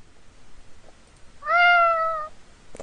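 A cartoon cat gives a single clear, drawn-out meow in a cute Flash game about a kitten, loud and close over faint background noise, followed by a brief click.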